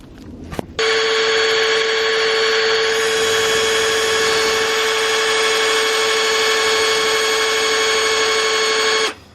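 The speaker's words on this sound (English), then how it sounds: "And then we're going to drill through and drill through into the car." A power drill bores through a carbon fibre wide arch into the body of an NA MX5 Miata, running as a loud, steady high-pitched whine for about eight seconds after a brief tap, then stopping.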